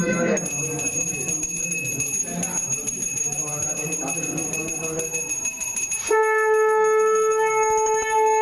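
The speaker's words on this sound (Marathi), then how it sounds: "घंटी वाजून घ्या" A small puja hand bell rings continuously in rapid metallic strokes, close by, under a voice chanting during a Satyanarayan puja; after the chant stops the bell keeps ringing, brighter and louder.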